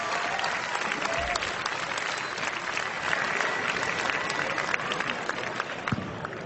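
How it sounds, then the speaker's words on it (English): A large crowd at the BlizzCon 2008 StarCraft 2 tournament applauds continuously, a dense, even roar of clapping with a few cheers mixed in, sustained at the same loudness throughout. "how about a big round of applause for Yellow for winning that first LT match?"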